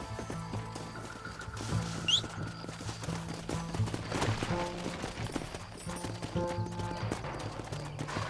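Horses gallop in Red Dead Redemption with rhythmic hoofbeats under a busy game soundscape that includes a whinny and background music.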